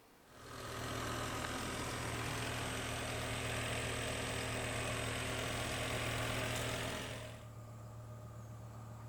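A BMW E60 M5 engine runs at a steady idle after a rod bearing replacement, a smooth constant hum that swells in, holds for several seconds, then drops away.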